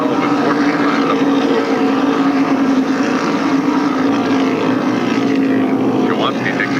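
SK modified race cars at Stafford Speedway's half-mile oval in 1993 run bumper to bumper, a steady loud engine drone throughout with a commentator talking over it.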